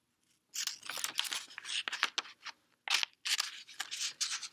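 Scissors cut through a sheet of paper in quick, crisp bursts of snipping, several runs of cuts with brief pauses between them, close and clear with no talking.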